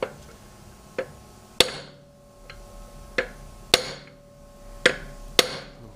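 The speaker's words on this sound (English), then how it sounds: "get a hammer, get one of these bad boys, give it a bit of a tap." A hammer taps repeatedly on a locking wheel nut to loosen it, about nine sharp metallic knocks at irregular intervals, some louder than others, each with a brief ringing decay over a quiet background.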